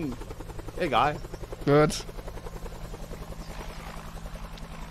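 A helicopter's rotors chop in a steady, rapid pulse throughout a scene in the Chained Together video game, while people talk over it in German.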